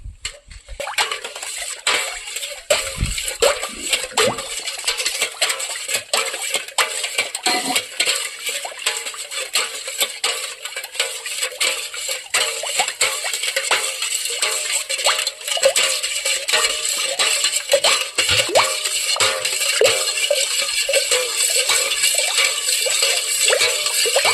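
A spoon stirs sugar into a traditional seempal mixture in a metal pot, making steady, rapid clinks and scrapes with a faint liquid slosh throughout.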